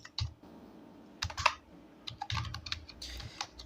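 Keys clicking on a computer keyboard while a village name is typed into a bank passbook form, in short uneven bursts of close, crisp taps.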